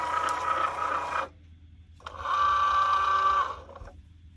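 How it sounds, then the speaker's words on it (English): A Cricut Joy cutting machine works through vinyl in two bursts of steady mechanical whirring with a thin whine on top, separated by a short pause. The sound is close and loud. "So my machine's finished cutting"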